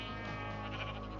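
Sheep bleating in a video game world on a mountaintop, a sustained, steady bleat heard close and alone over a low hum, with no talking.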